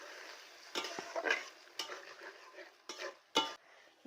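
Water poured into a tomato masala frying in oil sets off a burst of hissing sizzle, with scrapes and stirring clatter rising in short loud flare-ups over a steady background fry.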